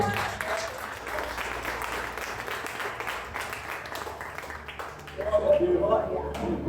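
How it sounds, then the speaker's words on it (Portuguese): A church congregation claps for the Lord at a New Year evangelical service, a steady wash of applause running throughout and swelling briefly near the end, with voices mixed in. "E aplauda o Senhor."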